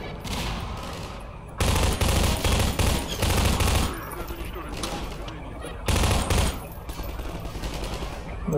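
Bursts of automatic gunfire in the shooter game Half-Life 2, rapid loud volleys in several rounds with pauses between, layered with game noise and someone talking over parts of it.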